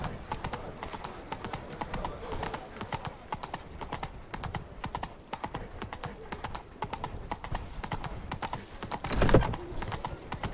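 Horse hooves in The Witcher 3 game, a steady rapid clip-clop of galloping on the ground that runs continuously at moderate loudness, with a brief louder thump near the end and no talking.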